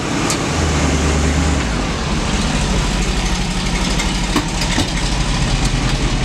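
A car engine idles steadily in an auto shop bay, a loud low rumble with a lumpy, rough edge that continues without pause throughout.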